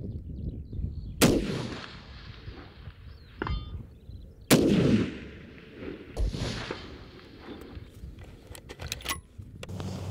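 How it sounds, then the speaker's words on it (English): Rifle shots fired at a distant 510 metre target outdoors: three sharp, loud cracks spaced a few seconds apart, each trailing into a fading echo, with faint clinks and handling noises between. "we've fired three shots at our 510 metre target"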